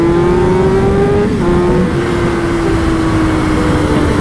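Car with a newly fitted exhaust revving hard at full throttle, a loud, steady, close engine roar whose pitch holds high with a slight dip midway, filling the whole clip without voices.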